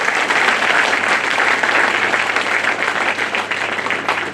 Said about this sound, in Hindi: जोरदार तालियों से अपने लिए स्वागत करें